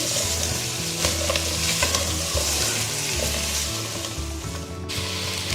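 Potatoes frying in a pan for Bombay masala biryani while being stirred, giving a steady, loud sizzle with scraping stir strokes throughout and no talking.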